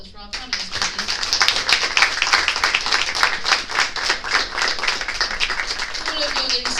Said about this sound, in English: can we have a round of applause for our panellists, please?